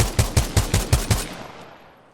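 A Titanfall 2 video game weapon fires a quick burst of about six loud, evenly spaced shots, then the sound decays into a fading tail.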